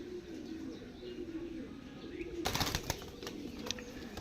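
Pigeons freshly bathed and brought indoors coo softly in low repeated notes, joined partway through by sharper rustling and fluttering bursts close by.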